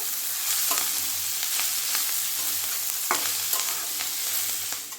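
Boiled vegetables with coriander and turmeric powder for oats pulao fry in a hot pan, a dense continuous sizzle broken by occasional soft scraping stirs, close and even, with no voices.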